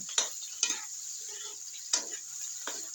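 Brains being sautéed in a pan, with a utensil scraping and tapping the pan in a few separate strokes over a soft steady sizzle, close and fairly quiet, no talking.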